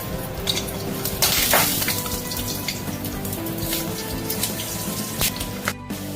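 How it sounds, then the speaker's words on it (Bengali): Potatoes fry in hot mustard oil in a kadai, a dense steady sizzle with crackling pops, close and continuous throughout. "তেল গরম হয়ে গেছে আলুগুলো ভেজে নিচ্ছি"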